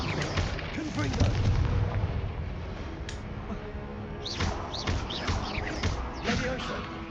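Confringo fire-blast spell cast in the Hogwarts Legacy video game, a series of sharp booming bursts and pops over dense combat noise, with a voice speaking between the blasts.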